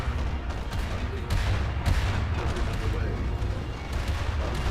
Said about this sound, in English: The heavy cannons are actually going for it on this as well.